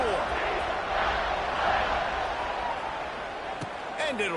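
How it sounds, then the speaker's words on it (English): Stadium crowd in a college football video game (Memphis at UCF) keeps up a steady, dense roar that fills the whole stretch, with a brief sharp knock near the end. "this crowd is buzzing after that last score"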